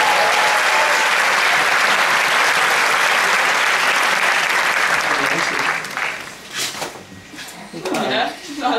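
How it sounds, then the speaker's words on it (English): Audience applause at a congress opening ceremony fills the hall as steady, dense clapping for several seconds, then thins into scattered claps while voices begin speaking. "let's give another round of applause to Alexey Ivanovich."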